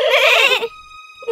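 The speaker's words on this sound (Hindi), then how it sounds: "जब वो घर में आए तो उन्होंने बकरी के बच्चों की आवाज सुनी।" A young goat kid bleats inside a wolf's house in an animated story, one loud wavering cry followed by a brief pause and the start of another bleat.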